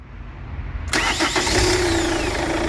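After its starter was replaced, a Chevrolet Captiva 4x4 engine cranks briefly, then catches and settles into a steady, close idle that stays loud.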